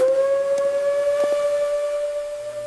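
A single sustained factory shift whistle blows at a steady pitch at the Thiokol plant near Woodbine, Georgia, loud and unbroken, with a faint low rumble underneath.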